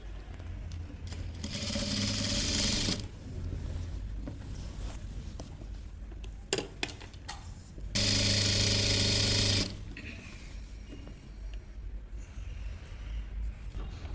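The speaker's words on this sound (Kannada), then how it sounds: "ಮಿಕ್ಕಿದೆಲ್ಲನೂ ಪೂರ್ತಿಯಾಗಿ ಹೊಲ್ಕೋಬೇಕು" A sewing machine stitches a pant seam in two loud, steady whirring bursts, one of about a second and one of about two seconds, with quieter handling clicks and room noise in between and no talk.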